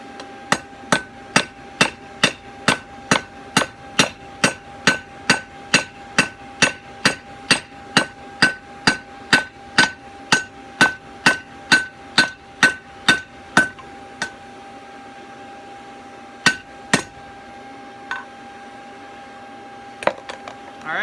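Hammer blows flatten a hot, hand-forged kiridashi blade on an anvil: a steady, fast run of loud ringing metallic strikes for about fourteen seconds, then a few scattered, softer taps.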